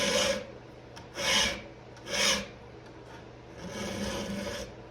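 A file rasps against a chainsaw chain tooth in short, close strokes, three distinct scraping passes followed by a longer, softer one.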